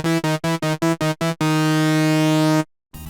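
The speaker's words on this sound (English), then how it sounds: "I'm referring to the oscillating between 2 particular tones within the string instruments," Strings from the Your Turn to Die visual novel score rock back and forth between two tones a minor second apart, seven quick pulsed notes followed by one long sustained tone, loud and alone.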